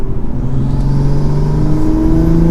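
Toyota GR Supra with a manual gearbox shifting from fourth into fifth gear: a loud, close engine note with harmonics that climb, dip briefly at the change and pull on steadily, no talking.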